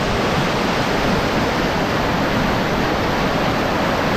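The strong current of the Bagsit River in Palauig, Zambales, rushes close by as a loud, constant roar of flowing water with no break or voices.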